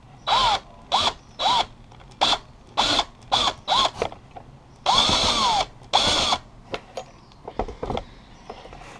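Power drill with a Phillips bit widening a hole in a Conibear trap trigger, about a dozen short whirring bursts with pauses between, one longer run midway, close and loud.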